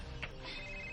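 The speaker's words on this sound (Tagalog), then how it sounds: "Tumagaran ng cellphone na nagsigig tingog" A cellphone ringtone chirps briefly and faintly, a short electronic trill over low background noise.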